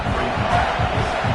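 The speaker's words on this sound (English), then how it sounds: "Listen to this crowd just shaking the girders of this place, trying to help their defense." Stadium crowd in the NCAA 25 college football video game roars continuously and loudly, a dense, steady wall of cheering with no individual voices standing out.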